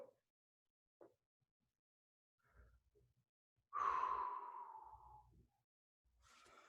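A single long, breathy exhale released during a stretch, close and soft, fading out gradually after a few faint earlier breaths.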